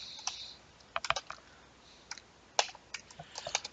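Close, crisp keystrokes on a computer keyboard as code is typed, coming in short irregular bursts of clicks separated by brief pauses, with no voices.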